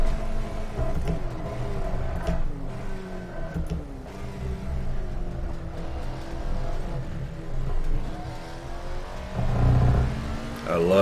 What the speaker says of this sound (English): I love the scream of that engine.